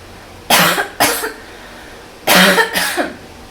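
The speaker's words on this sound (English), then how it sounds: "I'm going to cough into my elbow" Two pairs of sharp, close coughs, each burst quickly followed by a second, with a short quiet pause between the pairs.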